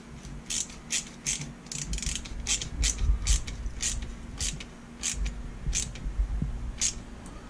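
A ratchet tightens a hose clamp on a 2008 Yamaha YZ250F dirt bike's cooling hose, giving a quick series of sharp metallic clicks in uneven bursts, close and clear over a low background hum.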